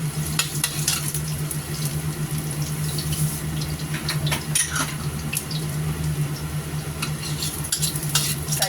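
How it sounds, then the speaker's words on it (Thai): Chinese luffa and shrimp with garlic stir-fried in a pan, a steady close sizzle with scraping and clinking of a utensil against the metal throughout, no talk. "ผัดบวบจีนกับกุ้ง ใส่กระเทียมเข้าไป"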